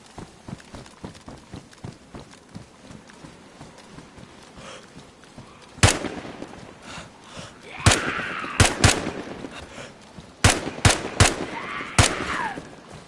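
Rapid bursts of gunfire from the survival video game DayZ, set on Prison Island, as a magazine is emptied: a dense volley of sharp cracks, then several spaced, loud single shots close by, heard with no talk.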